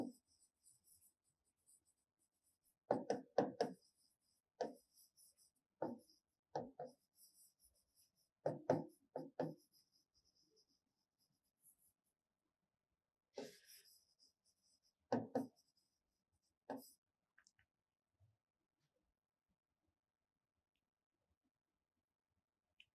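Handwritten strokes of a physics topic heading about refraction of light through a prism, heard as short scratchy bursts of pen or chalk on a board in a class 10 science lesson, with pauses between words and no talking.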